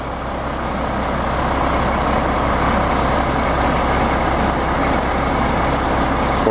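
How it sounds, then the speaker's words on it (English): Big concrete pump truck from JD's Pumping running steadily at a rainy footing pour, a loud, continuous low diesel rumble close by with no pauses. "Nice big truck."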